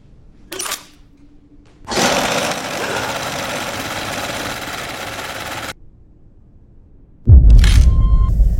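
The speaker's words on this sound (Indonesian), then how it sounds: "tiba-tiba mesin jahit di ruangan tersebut menyala sendiri" A sewing machine in a horror film starts up by itself with a loud, steady mechanical whirr lasting about four seconds, preceded by a brief knock and followed by quiet, then a heavier rumbling burst near the end.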